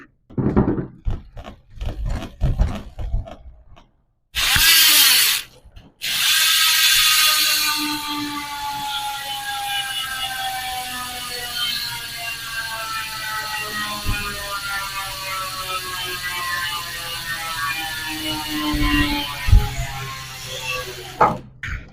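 A Hassns Pro 7 bicycle rear hub freewheel ratchet on a 700C by 25C wheel buzzes in rapid clicks that slow as the wheel coasts down, preceded by a few thunks and a spin-up.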